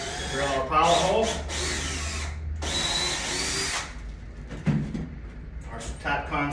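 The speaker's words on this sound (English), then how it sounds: "Drill our pilot hole." A power drill drilling a pilot hole for a crawlspace door whines loudly in two sustained bursts close by, then stops, followed by faint shuffling and handling noises.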